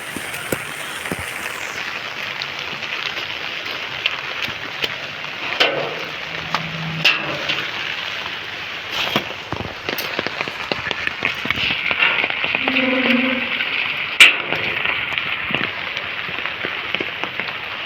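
Rain falls steadily outdoors, a continuous hiss with scattered drips and taps on nearby surfaces, with no one talking.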